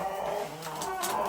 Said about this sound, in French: le coq qui est juste là. On a une poule juste ici.